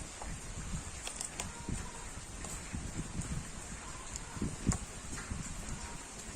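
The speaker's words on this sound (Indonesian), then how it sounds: "Sorry nanti kalau ada kedengar suara hujan ya" Rain falls outdoors beside a house where a Yamaha X-Ride front shock absorber is being repaired, a steady broadband patter with scattered louder drops throughout, no voices.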